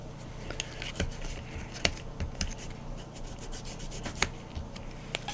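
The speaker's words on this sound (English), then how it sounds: "just try to rub it with some sandpaper to see if it comes off" Sandpaper is rubbed by hand over a plastic Star Trek model part, making a continuous close scratchy rasp with sharper strokes scattered through it.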